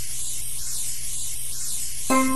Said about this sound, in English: Okay, spray some water on it.